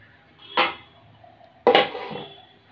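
A lid clatters onto a pot of boiled rice flour dough twice, two sharp metallic clanks about a second apart, close and fairly loud in a quiet kitchen.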